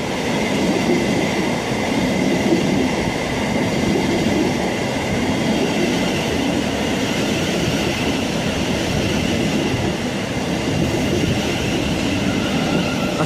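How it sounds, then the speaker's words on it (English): A long train rolls steadily past at close range near Norwood Junction, a continuous loud rumble of wheels on rails with clattering carriages and faint squeal, unbroken for the whole stretch. "Quite a long train."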